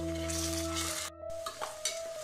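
Onion and tomato sautéing in a pan for a pressure cooker chicken biryani, a soft steady sizzle with occasional scrapes and clinks of a spoon against the pan, near and quiet under a faint steady hum.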